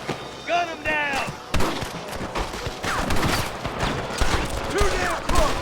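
Gunfire in Red Dead Redemption, scattered sharp shots and booming reports mixed with shouting voices and game sound, a chaotic close-range firefight.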